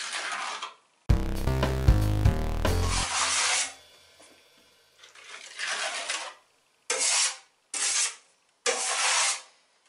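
A plastering trowel scrapes wet plaster across a wall on a chimney breast, in a series of separate rough, rasping strokes, each a second or two long, with short silent pauses between them.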